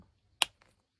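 A single sharp, dry knock on a wooden table, close and fairly quiet, alone in an otherwise still room.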